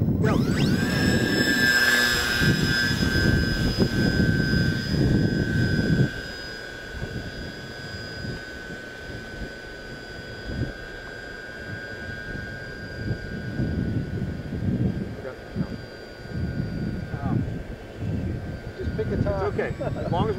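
Several electric model airplanes, some with KFm-stepped airfoils and others with conventional airfoils, climb under motor power, giving a steady high propeller whine that is loud at first and then eases a little as they move away, with wind noise and talk over it.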